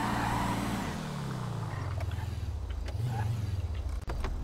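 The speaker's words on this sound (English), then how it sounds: "But as you can hear, there's an engine sound." Car engine in the video game GTA V with the LSPDFR police mod, a steady front-wheel-drive motor hum that drops in pitch as it eases off and then picks up again, continuous and fairly close.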